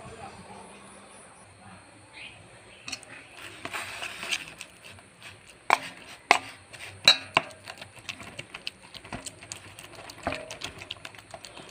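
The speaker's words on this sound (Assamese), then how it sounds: "ইতিমধ্যে মোৰ ফেটি লোৱা হ'ল।" Eggs whisked in a bowl while preparing food for a child, heard as a run of quick, sharp clinks and taps that grow denser midway and carry on at moderate loudness over a soft room background.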